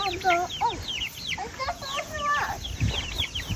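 Young chicks and a black rooster out in a new grow-out run cluck and peep continuously, a busy overlapping chorus of short calls close by, with faint low background noise.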